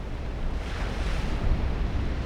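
Wild Atlantic surf breaks against a rugged, eroded bluff, a steady broadband wash of waves with gusty wind buffeting throughout and a slight swell near the middle, no voices.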